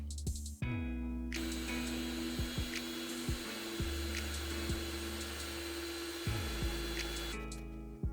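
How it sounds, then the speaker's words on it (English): An electric mixer whips egg yolks with sugar in a bowl, its motor whining steadily and loudly for several seconds with brief bumps and knocks against the bowl. "we are going to whip them with 1 cup of sugar until it is light, fluffy, and pale"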